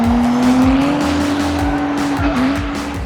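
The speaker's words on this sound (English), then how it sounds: "this is a turbo diesel inline 6-cylinder" A 2000 BMW E46 wagon powered by a Mercedes-Benz turbo diesel inline six roars loud and close, holding a strained, slightly wavering pitch while tires squeal in a drift, with no talking.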